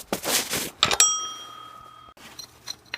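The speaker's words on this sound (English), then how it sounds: "So it's a bearing in here." A worn fan pulley bearing from a Nissan 3.5L engine, removed and spun by hand, gives a bright metallic ring after a rattly start. The ring holds for about a second and then cuts off, followed by faint light clicks.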